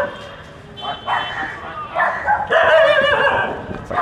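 Several dogs bark and yip close by on a street in West Bengal, India, in a rising, overlapping jumble of barks, louder toward the end.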